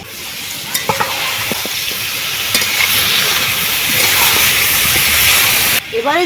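Burnt-roasted ground paste of ginger, garlic and onion dropped into a hot pan with potatoes and chicken, a loud continuous hissing sizzle with a few sharp clinks, cutting off abruptly near the end.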